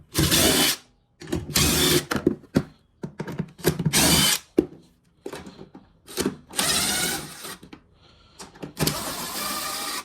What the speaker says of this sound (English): you're going to take your impact with your 10 millimeter on it